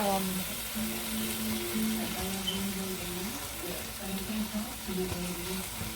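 Chicken fries in a small amount of oil with celery and scallion, a soft continuous sizzle beneath a voice speaking throughout.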